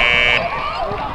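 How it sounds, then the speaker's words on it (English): Game-ending buzzer at a high school football game at a stadium, a loud, steady electronic tone that cuts out partway, with a voice talking over crowd noise. "That buzzer will mean that is the end"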